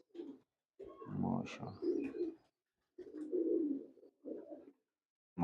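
A Teddy pigeon gives several soft, throaty coos in short bursts separated by brief pauses, heard close but fairly quiet, with a person speaking briefly nearby.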